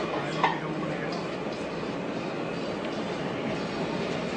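A subway train in a Washington, D.C. metro game rumbles steadily through a tunnel, a continuous low rolling noise with faint ticking, and one brief brighter clank near the start.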